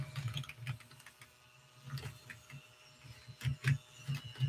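Bristle-and-fan cleaning tool brushing over a well-used computer keyboard, giving soft scratchy rustles and clicks with several louder bursts toward the end, close by and with no talk.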